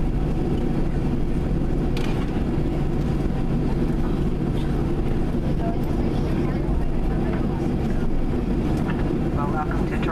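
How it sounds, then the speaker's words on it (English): Cabin of a WestJet Boeing 737-700 taxiing at Toronto Pearson after landing as the flaps retract: a loud, steady engine and airframe roar fills the interior without letup. "And the flaps are going up."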